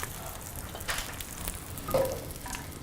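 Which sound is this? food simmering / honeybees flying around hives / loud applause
food simmering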